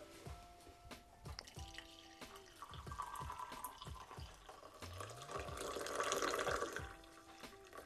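French press coffee pouring steadily into a cup, a running splashy trickle that swells louder toward the end, with faint clinks and no talking.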